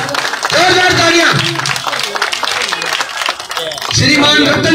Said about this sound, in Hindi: श्रीमान राम कुमार जी के लिए जोरदार तालियों से अभिनंदन और स्वागत, जोरदार तालियां